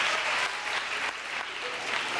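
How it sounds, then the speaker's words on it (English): A school assembly audience gives the superintendent a round of applause, a full, sustained clapping from a large crowd heard at a steady level throughout. "Let's give her a round of applause."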